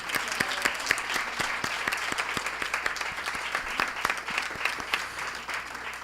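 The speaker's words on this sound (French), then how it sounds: "Je nous invite encore à une bonne main d'applaudissements pour nos panélistes." An audience at a grand panel evening applauds the panelists: steady, dense clapping from a sizeable crowd, moderately distant and even, with no talk over it.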